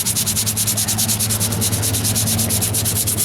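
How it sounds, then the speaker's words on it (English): Steady, rapid back-and-forth sanding strokes on painted bodywork during a wheel arch repair on a 1998 Ford Ranger, a close, continuous raspy rubbing with a fast regular rhythm and a low hum underneath. "See if I can sand it out."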